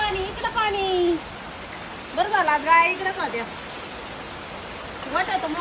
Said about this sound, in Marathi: आता एक वाजताच पाऊस चालू झालेला आहे